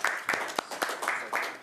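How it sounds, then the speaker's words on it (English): A small group in a parliamentary committee room gives a round of applause for the committee analysts, a few sparse, uneven claps with short gaps between them, fairly quiet and close. "we can give a round of applause to our analysts"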